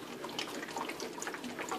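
Water is sprinkled onto potted plants, giving a soft, steady splashing and trickling with no voices over it.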